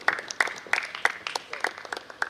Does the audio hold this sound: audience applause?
yes